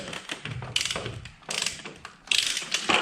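A ratchet wrench backs off a bolt during maintenance on a 1967 Ford F100. It makes a close, dense series of clicking pawl ratchets in several quick bursts, with no one speaking.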